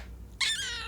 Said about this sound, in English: Those are the weirdest meows.